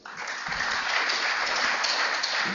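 A large audience claps in welcome as a speaker comes onto the stage, a broad, sustained wash of applause at an even level throughout.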